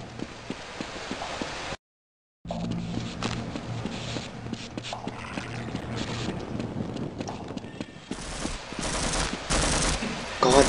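Rapid bursts of gunfire from the video game Half-Life crackle over a dense, busy game soundscape, with a brief dropout partway and a louder, brighter stretch of shooting near the end.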